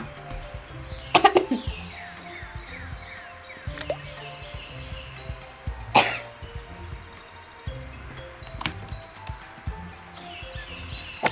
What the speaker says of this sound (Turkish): Bir öksürük tuttu bana.